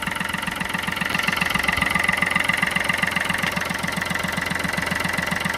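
A Chevrolet Beat LS diesel engine idles with a steady, rhythmic knocking chug, loud and close, running evenly throughout without any talk.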